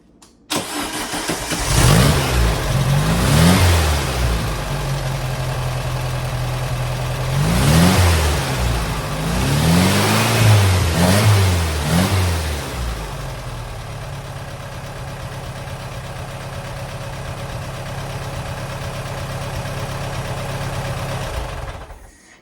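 A 1972 VW Super Beetle engine cranks and catches several times, revving in bursts before settling into a steady idle that cuts off at the end.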